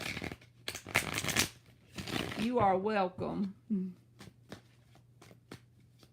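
Tarot cards are riffled in a few quick papery bursts, with softer card taps between, while a person talks close to the microphone partway through.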